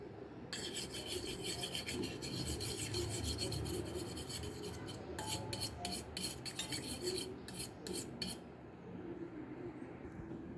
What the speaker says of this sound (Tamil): அதுலேயே கொஞ்சமாக பால் சேர்த்து கட்டி இல்லாமல் கலந்து விட்டுப்போம்